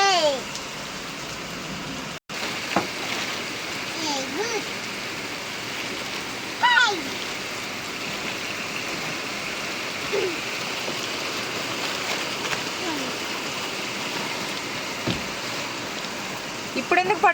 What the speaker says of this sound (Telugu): బాగా గట్టి వర్షం పడుతుంది